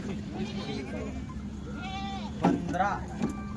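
A goat bleats a few times, wavering calls close by, over a steady background hum and low murmuring.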